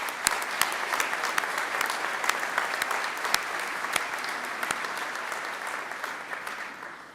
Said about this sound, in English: I'd like to take an opportunity just now to give a round of applause to all the people that helped you to achieve this great thing today